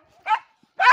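A dog barks twice, two short, sharp, close barks separated by a brief silence.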